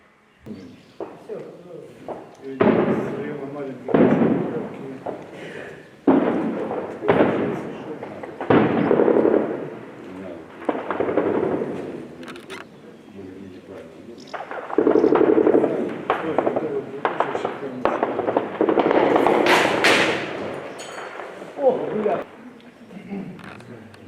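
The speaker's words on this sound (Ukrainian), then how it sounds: "працює артилерія, міномети" Artillery and mortar fire thumps and booms in repeated heavy bursts around the Ukrainian village of Butivka during wartime, while voices talk over the firing throughout.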